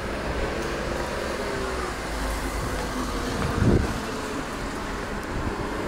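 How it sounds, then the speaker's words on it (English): Steady engine and road rumble from a 2014 Mercedes A45 AMG compact car in Tokyo, heard close with wind noise, plus one brief louder bump near the end and no talking. "so a bit noisy there, the new 2014 Mercedes A45 AMG"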